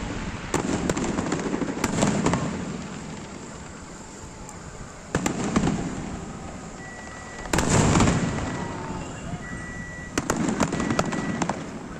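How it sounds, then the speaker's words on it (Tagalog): Repeated loud firework bursts at intervals of a few seconds over Pililla, Rizal, Philippines, each sharp bang trailing into crackling, booming echoes outdoors. "may fireworks na"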